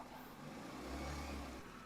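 A 2015 single-owner car is revved in a shop with its engine bay open, a low engine hum swelling into a fuller, louder rev partway through, with no talking over it.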